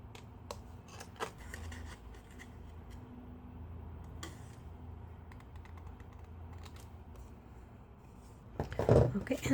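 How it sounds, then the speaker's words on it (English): Scissors snip through card stock between die-cut house shapes, giving sharp intermittent clicks and cuts over a quiet craft-table background, with a louder rustle at the end. "I'm going to be using my scissors to cut in between"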